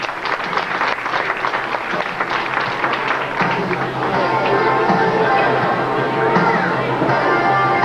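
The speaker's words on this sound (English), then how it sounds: "let's give a big round of applause for intermediate high diver Rob Kane" Crowd applauding a high diver at a Water Country water park show, steady clapping with some cheering and talk mixed in, shifting toward music-like tones later on.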